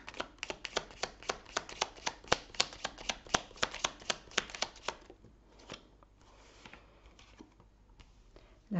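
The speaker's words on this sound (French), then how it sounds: "je vais mettre les cartes ici" Tarot cards are handled and laid out, a quick run of crisp snapping flicks for about five seconds, then softer scattered slides and taps as the cards settle.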